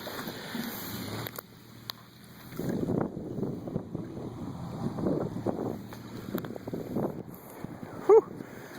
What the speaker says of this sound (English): Cold and windy out today.